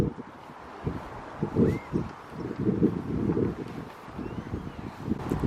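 Cold winter wind gusts across an outdoor allotment plot, buffeting the microphone with uneven low rumbling bursts that rise and fall throughout.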